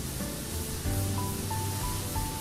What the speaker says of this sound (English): Mococo, use the power washing!